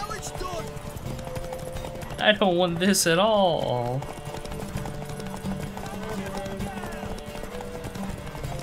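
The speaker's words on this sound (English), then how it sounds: "Not a horse galloping contest." Horse hooves clip-clopping at a gallop in The Witcher 3, a steady rhythmic patter running beneath game music while someone talks over it.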